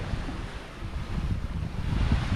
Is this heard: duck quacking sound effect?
no